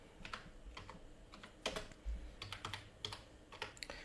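Keys on a computer keyboard tapped in short irregular bursts while a number is entered, close and fairly quiet, with no voices.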